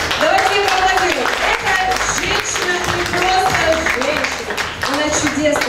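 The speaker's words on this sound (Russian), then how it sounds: "Давайте ей аплодируем" Audience applause at a modeling agency beauty contest, steady clapping throughout under loud amplified music and a voice speaking over it.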